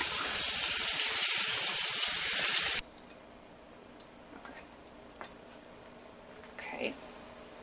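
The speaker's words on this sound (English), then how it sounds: "then you're going to run cold water on them to stop the cooking process." Cold tap water runs hard and loud over peaches in a sink for almost three seconds, then cuts off abruptly, leaving quiet room tone with a few faint clinks.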